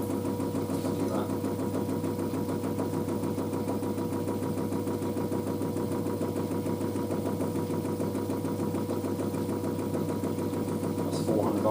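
An LG DirectDrive F1496AD washer dryer drum spins at 400 RPM, a steady, moderately loud mechanical hum with a rhythmic thumping pulse that continues evenly throughout.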